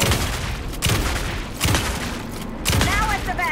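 Gunfire in the video game Alan Wake 2 booms in four heavy, evenly spaced shots, loud and close, with a faint voice underneath.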